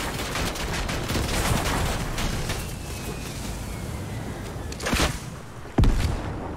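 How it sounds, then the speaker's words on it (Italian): Rapid gunfire crackles through a Fortnite match, a continuous noisy barrage with a couple of sharper louder shots and impacts toward the end. "Mi sparano, c'è!"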